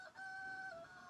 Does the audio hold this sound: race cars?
no